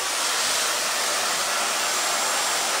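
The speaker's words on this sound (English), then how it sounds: "Working with the Dyson Supersonic and just using downward airflow with my diffuser." A Dyson Supersonic hair dryer fitted with a diffuser blows a loud, steady, close whoosh of air, unbroken from start to finish with no speech.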